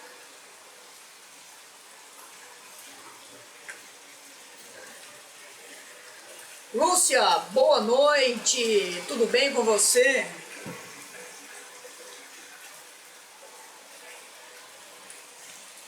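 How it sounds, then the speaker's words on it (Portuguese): Heavy rain falls continuously during a live stream, a steady broadband hiss and patter throughout, while someone speaks briefly over it in the middle. "só tem barulho de chuva aqui"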